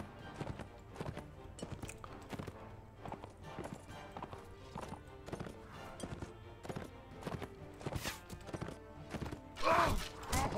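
Horses gallop across an open plain in the video game Mount & Blade, with quick, steady hoofbeats throbbing throughout, a neigh-like flare near the end, and no speech.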